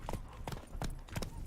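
Horse hooves in the video game The Witcher 3, a steady clip-clop of about four hoofbeats in even rhythm, close and clear over a faint background bed.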